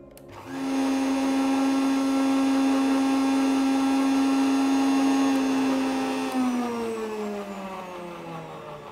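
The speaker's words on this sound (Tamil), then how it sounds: "மல்லி, புதினா, ஜீரகம், இஞ்சி எல்லாத்தையும் மிக்சியில் போட்டு அடித்து எடுத்துக்கிறோம்" An electric mixer grinder blends coriander, mint, cumin and ginger in a loud, steady whirring drone that holds for several seconds, then winds down and slows as the motor is switched off.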